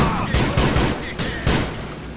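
A rapid burst of gunfire in the video game GTA IV, several loud close shots in quick succession with echoing tails, ending in a sparser pair of blasts.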